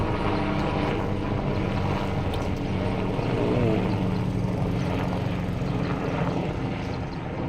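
An airplane flies overhead, a loud, continuous engine drone that holds steady throughout with a slight swell in the middle, heard outdoors with no talk.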